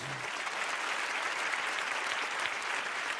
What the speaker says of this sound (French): Vous pouvez l'applaudir, il est à mes côtés